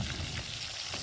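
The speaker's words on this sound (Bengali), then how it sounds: "তো দেখো মাছ ভাজা হচ্ছে" Fish fries in oil over a wood fire, giving a dense, even, close-up crackling sizzle that holds steady from start to finish with no voices.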